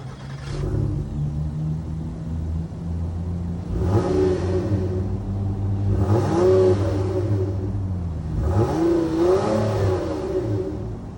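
A 2022 Honda Odyssey Elite's 3.5 liter V6 starts and settles into a steady idle, then revs three times in rising, falling sweeps, heard close and clear without any voices.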